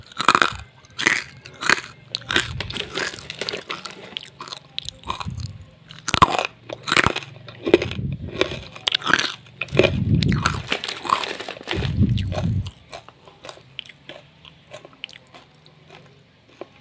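Crispy dried basreng, fried meatball chips, being bitten and chewed in a run of loud, close crunches with short pauses between bites, fading to quiet toward the end.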